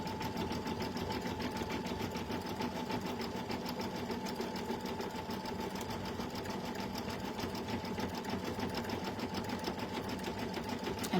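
Embroidery machine running steadily as it stitches a freestanding design, a continuous fast, even whir with rapid needle rhythm lasting throughout, close and alone without talk.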